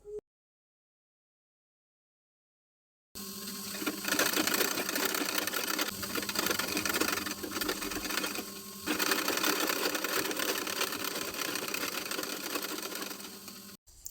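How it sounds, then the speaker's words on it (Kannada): A sewing machine stitches a one-inch fold in frock fabric. Its steady, close mechanical whirring starts after about three seconds of silence, dips briefly once, then runs on to the end. "1 ಇಂಚಿನ ಈ ರೀತಿ ಫೋಲ್ಡ್ ಮಾಡಿ ಸ್ಟಿಚಿಂಗ್ ಮಾಡ್ಕೊಳ್ಳೋಣ ಈಗ."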